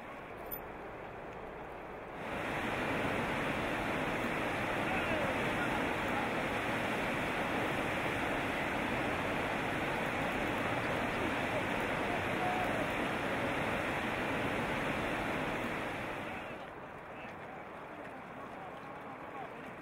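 A November river's whitewater rapids rush in a steady, dense roar for about fourteen seconds during a kayaking descent, loud and continuous, then drop back to a quieter background.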